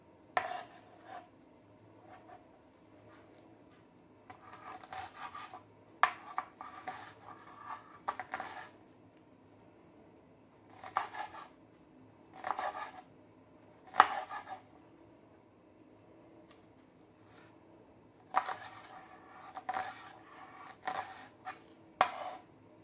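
A knife trimming the roots off scallions on a cutting board, quiet clusters of chopping taps and scraping strokes in irregular bursts separated by near-silent pauses.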